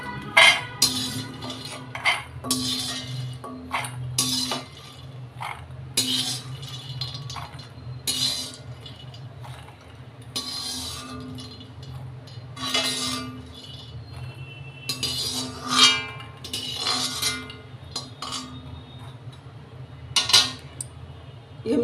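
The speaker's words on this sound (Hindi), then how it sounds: "अब मखानों को हम किसी बर्तन में निकाल लेंगे।" Roasted fox nuts (makhana) tipped from a pan into a vessel in a home kitchen, making a run of light dry clinks and rattles against metal, with scraping and a low steady hum underneath, no talking.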